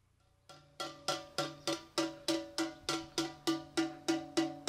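A metal pot is struck again and again in a steady, even rhythm. Each loud, close, ringing clang decays before the next, and about a dozen blows follow a brief quiet start, with no talk.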